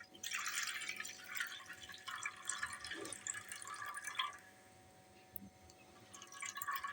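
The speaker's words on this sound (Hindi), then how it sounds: "ये देखिए इस तरह से सारा पानी आपने निकाल लेना है।" Water poured off soaked sago pearls while making a sabudana and carrot recipe: a close, steady splashing trickle with scattered drips that thins out near the end.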